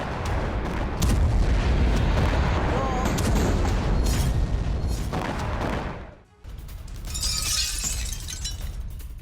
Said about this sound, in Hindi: हिजबुल्लाह के हमले से भड़की आग, विस्फोट से तेल अवीव में बड़ी तबाही